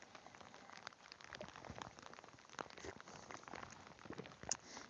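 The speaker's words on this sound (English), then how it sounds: "Of course, now that it's raining." Rain patters steadily on an expedition truck in Alaska, a soft dense spread of drops with occasional louder taps, faint and continuous with no talk.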